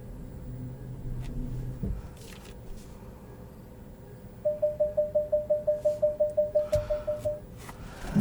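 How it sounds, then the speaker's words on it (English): A 2021 Ford Mustang Mach-E sounds its cross traffic alert: a rapid run of about fifteen evenly spaced chime beeps lasting roughly three seconds, clear and close over a low cabin rumble. "There's your cross traffic alert."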